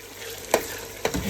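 Chopped carrots and onions fry in a pan with a soft steady sizzle, broken by two sharp scrapes of a utensil stirring the vegetables.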